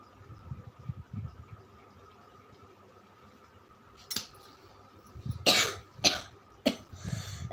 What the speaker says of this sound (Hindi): दो जगह पानी पी लिए, खांसी आने लगी